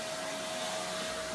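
Vacuum cleaner running with a steady, even motor whine and airy hiss, close and constant for the whole moment with no talk.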